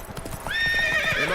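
Roach, Geralt's horse in The Witcher 3: Wild Hunt, breaks into a loud gallop of rapid hoofbeats and lets out a close, shrill whinny, with no talk over it.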